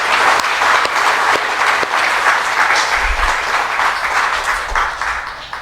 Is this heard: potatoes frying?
no